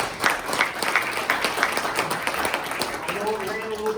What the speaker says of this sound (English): if I could get everyone to give a round of applause for our panelists